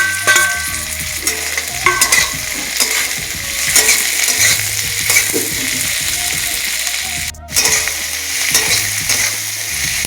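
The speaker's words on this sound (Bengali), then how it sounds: "পেঁয়াজ ক্যাপসিকাম রসুনের সাথে ভাজা হয়ে গেছে" Onion, capsicum and green chillies fry with garlic in a pan for chilli cauliflower, loud steady sizzling broken by repeated scraping stirs of a spatula.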